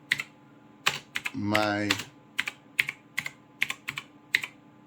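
Someone types a search into a web browser on a keyboard, with close, crisp, irregular key taps spread across the stretch and a brief spoken word in the middle.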